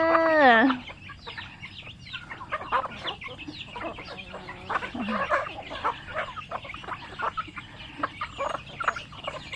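Village backyard chickens feeding on rice, a rooster crowing briefly at first, then continual soft clucks and pecking close by.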